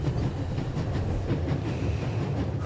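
A train rolls along in a video game with a dense, continuous rumble and a faint rhythmic clatter of wheels, steady throughout.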